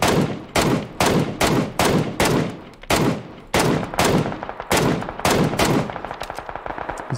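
Rapid bursts of automatic gunfire in the battle royale shooter PUBG, loud and close, firing in roughly a dozen sharp volleys with short gaps between them, no voices over it.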